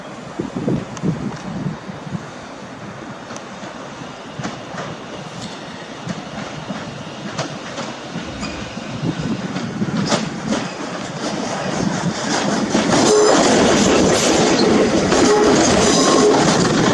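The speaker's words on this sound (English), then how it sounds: "GBrF 50 Desiria coming in from Wolverhampton." A GB Railfreight Class 50 diesel locomotive arrives at a station from Wolverhampton, its rumble and wheel clatter building steadily from moderate to loud and close over wind noise, with no talk.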